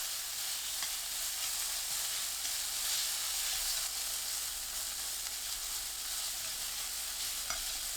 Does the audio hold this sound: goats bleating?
no